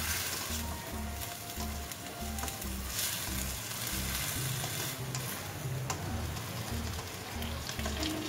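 Mushrooms fry and get stirred in a pan with pepper and stock seasoning, giving a steady close sizzle with regular scraping strokes of the utensil throughout.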